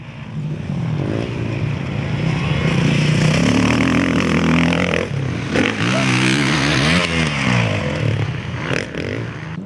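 Motocross motorcycles race in a Ukrainian Cup and regional championship round, engines loud and close, revving and rising and falling in pitch as bikes pass, with clatter and scraping under the steady roar.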